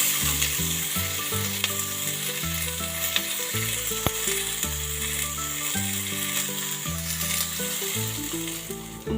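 Two medium-size tomatoes sizzling and frying in a pan for sambar, a steady bright crackle with occasional stirring scrapes, no talking.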